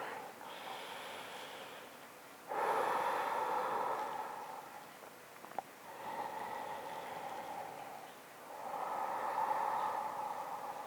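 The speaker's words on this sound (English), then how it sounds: "let's take another 2 or 3 deep breaths right here" Slow, deep breathing during a yoga stretch: a few long, audible inhales and exhales, each lasting a couple of seconds, close and clear with no talk between breaths.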